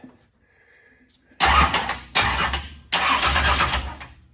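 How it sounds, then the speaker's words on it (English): A 1967 Camaro drag car with a big block Chevy engine cranking over on the starter, three loud grinding bursts separated by short pauses, close up with no speech. "so I can crank the engine to run the valves"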